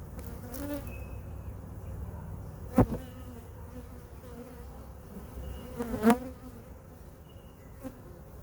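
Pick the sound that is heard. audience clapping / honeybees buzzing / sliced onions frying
honeybees buzzing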